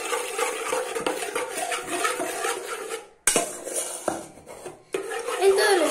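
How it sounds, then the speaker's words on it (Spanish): A spoon stirs a homemade slime mixture in a bowl, scraping and clinking against the sides in a busy, continuous rhythm broken by two brief pauses. "Con la cuchara removemos."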